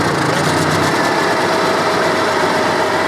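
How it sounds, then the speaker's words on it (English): An air-cooled generator with a manual choke, mounted in an old police SWAT van converted to a workshop, runs steadily close by with a loud, constant buzzing drone, alone. "A little noisy. Generator's running,"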